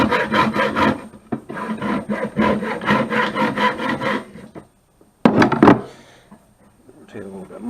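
A hand saw cuts wood for a sewing machine extension table in quick rhythmic rasping strokes, pausing for a second, then a short final burst.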